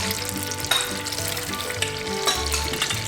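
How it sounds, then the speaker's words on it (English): Spring roll dove poppers sizzle and crackle steadily in hot grease, a dense, constant frying hiss with small pops, close by and uninterrupted. "once these things get to frying, they don't want to flip over"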